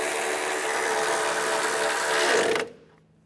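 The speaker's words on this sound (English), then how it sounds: "Tighten those bolts down" A power tool runs steadily, whirring as bolts are tightened down on a clutch slave cylinder of a 2005-2010 Chevrolet Cobalt, then cuts off abruptly near the end, leaving quiet.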